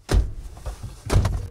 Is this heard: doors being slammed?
yes